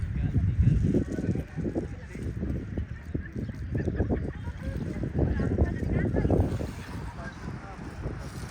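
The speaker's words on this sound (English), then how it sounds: "A lot of seabirds." Seabirds call at a beach in Manila at sunset, a busy chorus of honking and squawking cries heard at moderate distance amid outdoor background noise.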